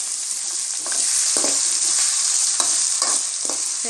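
Onions frying in a pan for Tamil-style mushroom momos, a steady bright sizzle with several soft scraping stirs of a spoon cutting through, close and continuous with no talking.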